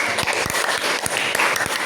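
A class of students claps steadily, a dense patter of many hands sounding fairly close and lively throughout.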